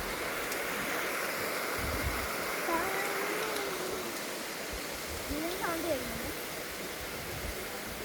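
The Thusharagiri waterfall in summer, with reduced flow, gives a constant broadband rush. A voice speaks over it partway through.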